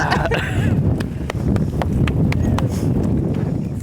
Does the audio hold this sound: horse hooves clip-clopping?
yes